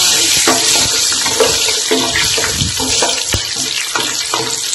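Green chillies sautéing in a hot pan, a loud continuous sizzle broken by repeated knocks of a spatula against the pan.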